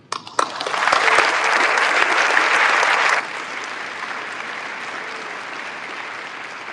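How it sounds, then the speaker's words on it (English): Audience applause at a Michigan National Guard ceremony, a dense, loud burst of clapping that cuts down after a few seconds to a quieter, lingering patter. "Please hold your applause until all are announced."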